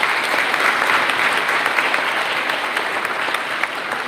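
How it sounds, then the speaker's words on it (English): A banquet crowd at a high school fall sports awards night gives the film crew a brisk round of clapping, dense and continuous, with sharp individual claps standing out through the wash. "Please give our film crew one last round of applause."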